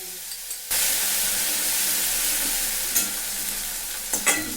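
Nigella seeds and ground spices hit hot oil with a sudden loud, steady sizzle that hisses on continuously, broken by a few brief sharper spatters near the end.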